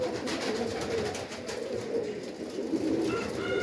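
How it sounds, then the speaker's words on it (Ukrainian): Soft, low cooing of pigeons repeats over a steady outdoor background hiss, the calls close and overlapping. "а там у небі голуби"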